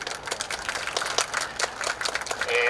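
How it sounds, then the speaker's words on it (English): A crowd applauds the staff of the Royal Wilson Marching Alliance band, with scattered, fairly faint clapping that swells slightly toward the end. "So give them a round of applause."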